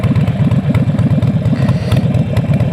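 A Harley-Davidson Sportster 48 motorcycle engine runs steadily close by, a loud, throbbing low rumble with a fast, even pulse that holds throughout.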